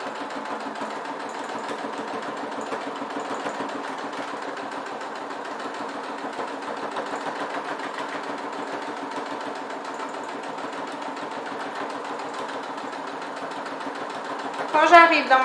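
A sewing machine stitches a fabric Christmas stocking with a steady, continuous, close-up mechanical whir. A brief louder clatter comes near the end.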